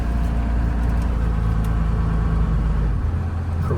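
An old truck rolls into a car dealership, its engine rumbling low and steady up close, easing off near the end as it settles.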